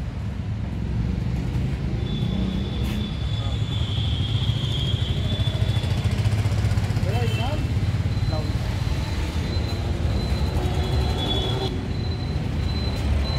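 A Farmtrac 35, 38 HP tractor engine: a steady low rumble runs throughout, close and constant, with faint higher whines and clanks over it.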